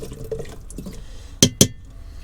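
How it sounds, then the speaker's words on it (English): Butternut squash soup stirred in a pot, soft wet swishing and scraping followed by two sharp, close clinks of a utensil against the pot rim. "I'm just going to give that a little bit of a stir"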